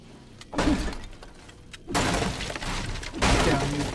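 A wall breaks apart in the Saw video game, loud crumbling bursts of shattering debris in three waves, close and unvoiced.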